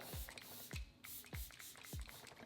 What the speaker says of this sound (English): I'm gonna spray some setting spray.